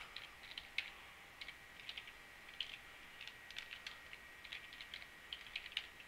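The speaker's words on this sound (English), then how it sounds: "My typing skills are not the greatest, so you put your email address here" An email address is typed on a computer keyboard, producing faint, irregular key clicks in quick uneven bursts over a steady low background hum, with no voices.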